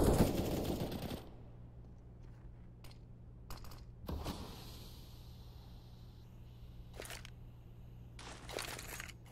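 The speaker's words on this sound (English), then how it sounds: "Flashbang pops perfectly" A flashbang grenade pops in Counter-Strike on the Mirage map: a loud burst at the start, then a steady hum with scattered sharp game clicks and shots across the rest.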